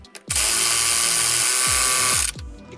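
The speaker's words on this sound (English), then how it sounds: "Let's drive these 2 bolts home." Power tool driving two bolts home on the suspension of a 2006 Chevrolet HHR, with a loud sustained whirring run of about two seconds and short mechanical clunks before and after.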